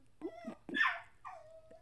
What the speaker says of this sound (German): mein Hund ist leider in der Pubertät